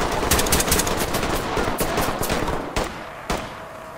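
Rapid automatic gunfire in the tactical shooter Ready or Not, a dense sustained burst of shots that thins toward the end into a few separate loud cracks.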